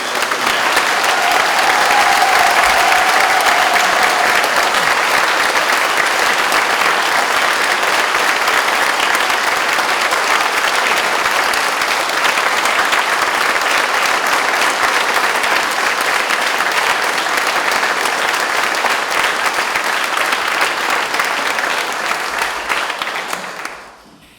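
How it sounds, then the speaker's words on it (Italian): Warm welcoming applause for Father Georg Sporschill at an honorary degree ceremony, a long, steady, dense round of clapping from a large audience that carries on evenly before fading at the end. "indirizzare un sentito, caldo applauso di benvenuto"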